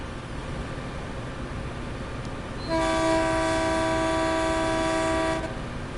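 A big locomotive horn in the Train Sim World game, running a large train through back streets, blasts a loud sustained multi-tone chord for about three seconds midway, over a steady background rumble.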